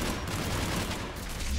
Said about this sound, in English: Yes, anti-aircraft guns are up ahead.